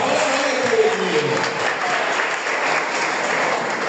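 A church congregation applauding during a Holy Family feast Mass, continuous dense clapping filling the room, with some voices mixed in beneath.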